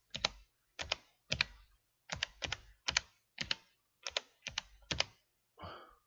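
Close, crisp keystrokes tap on a computer keyboard in short irregular clusters with brief pauses, ending in a softer rustle, with no voices.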